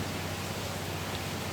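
Heavy rain falling at night, a steady broadband hiss with no breaks, moderately loud and uniform throughout.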